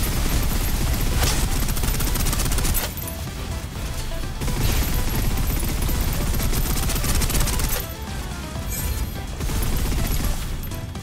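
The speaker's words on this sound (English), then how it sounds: "Suppressive fire" Sustained suppressive gunfire in Snowbreak, heard as dense, loud automatic bursts that rattle almost without pause, with brief lulls between volleys.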